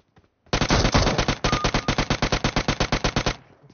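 Rapid automatic gunfire from PUBG Mobile, a sustained burst of about twenty evenly spaced loud shots over roughly three seconds, close and with no talk over it.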